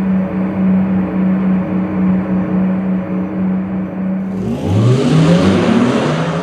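Porsche Macan 4 electric car accelerating from inside the cabin, a steady low drive-motor hum giving way to a rising whine and swelling road and wind noise, close and loud with no talk.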